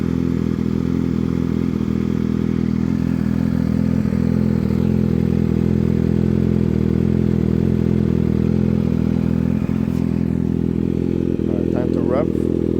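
2020 Kawasaki Ninja ZX6R with an M4 exhaust idling steadily once warmed up, a loud, even, close rumble running throughout with a few faint clicks near the end.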